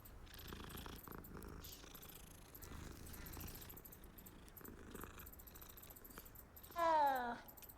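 A petted cat purring in the video game Hogwarts Legacy, a soft rumbling purr running steadily under game ambience, ending with a brief louder rising chirp-like sound.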